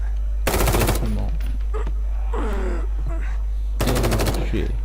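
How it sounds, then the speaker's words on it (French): Two loud bursts of rapid automatic gunfire in the video game The Evil Within 2, each lasting about half a second, with quieter game sounds and a voice-like groan between them. "Canarde-les jusqu'à ce qu'ils crèvent ou qu'on ait plus de munitions"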